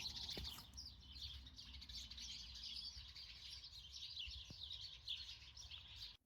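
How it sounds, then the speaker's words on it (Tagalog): Birds chirp around a house in Canada where they have nested, a faint, steady chatter of tweets with a couple of soft knocks. "Parang pinagpugaran na siya ng mga ibon."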